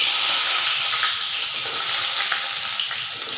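Chopped onion hits hot mustard oil in a kadai, where a bay leaf and a green chilli are already frying, and gives off a loud, close, steady sizzle and crackle with a hissing edge throughout.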